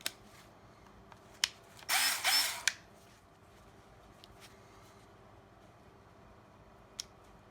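A Milwaukee M12 cordless polisher/sander spins up in a short, loud burst of roughly a second, with a few sharp clicks and taps before and after it in an otherwise quiet room.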